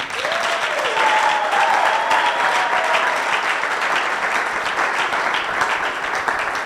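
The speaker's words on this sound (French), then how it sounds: "Applaudissez pour vous-même." Dense, steady applause from a youth audience at a televised church-group debate show, sustained and fairly loud for the whole stretch with crowd noise mixed in.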